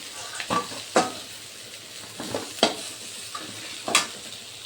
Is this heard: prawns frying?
yes